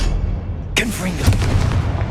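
A Confringo blasting spell goes off in Hogwarts Legacy, a sharp sudden bang followed by a short crackling burst and low rumble, with a voice speaking around it.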